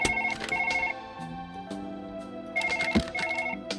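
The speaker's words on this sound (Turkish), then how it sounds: "Yine telefon başladı." A telephone rings in the surgery video game Surgeon Simulator, a loud electronic ringtone with repeating bursts of tonal beeps and a short melodic phrase, close and alone.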